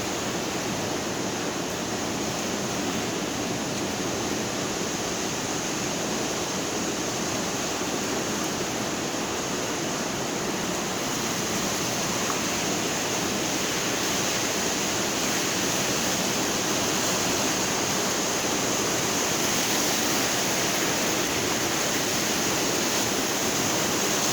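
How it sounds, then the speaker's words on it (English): Ocean surf washes onto Ladder Beach in Saipan at sunrise, a steady broadband roar of breaking waves running without pause for the whole stretch, fairly close and with no voices over it. "got the waves"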